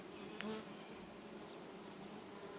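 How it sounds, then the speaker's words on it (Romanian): A close, steady buzzing hum of many honeybees gathered around the queen inside an open hive, with a brief louder buzz from one bee flying near. "Uitați câte albine s-au strâns aici lângă ea."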